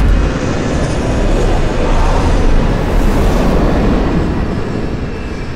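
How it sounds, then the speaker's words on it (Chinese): A cargo airplane touches down at an airport just before it closes, a loud, steady broadband roar that holds throughout. "这不是咱们陆航的飞机吗？"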